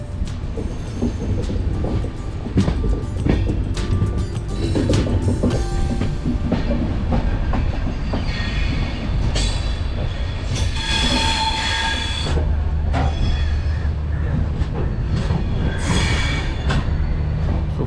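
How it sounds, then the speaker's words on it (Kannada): A train rolls along rails near Nagercoil junction in Kanyakumari district, a loud continuous rumble with rhythmic wheel clatter and clicks, plus bursts of metallic wheel squeal midway through. "ಈಗ ನಮ್ಮ ಟ್ರೈನ್ ಹತ್ರ ಹತ್ರ ನಾಗೋರ್ ಕಾಯಿಲ್ ಹತ್ರ ರೀಚ್ ಆಗ್ತಾ ಇದೆ ಹೋಗ್ತಾ ಇದೆ"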